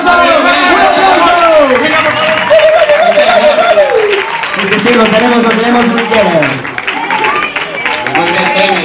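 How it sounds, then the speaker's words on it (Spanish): Audience applause at an outdoor dulzaina gathering, steady broadband clapping mixed with crowd chatter and a voice speaking over it throughout. "¡Un aplauso! ¡Un aplauso!"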